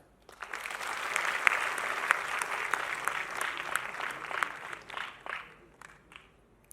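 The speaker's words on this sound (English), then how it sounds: "So I think you guys can clap for yourself." An audience at a college festival event applauds, the clapping swelling quickly into a dense, sustained burst of many hands for several seconds before tapering off to quiet.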